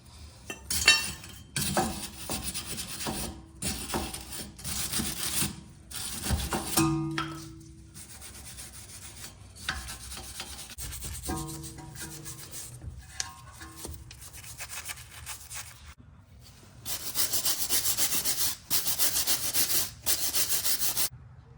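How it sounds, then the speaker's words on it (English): A wire brush scrubs the rear brake hub, studs, piston and caliper bracket of a 2016-2021 Honda Civic, in bursts of harsh rasping strokes separated by short pauses, close and moderately loud. "now I'm using a wire brush just to clean the surface of the hub, the studs, the piston, and the bracket itself"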